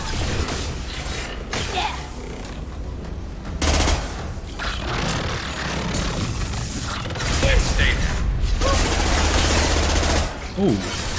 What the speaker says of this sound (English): Hostiles up ahead! Taking fire.